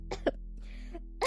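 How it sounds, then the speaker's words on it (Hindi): A few short, sharp coughs in quick bursts, close and separated by brief pauses, over a faint steady hum. "और खांसने लगती है।"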